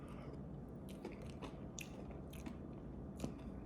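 Crunchy granulated-sugar coating on a Little Debbie ice cream cracks under close, quiet bites, a series of soft crisp crunches and chewing with no talking.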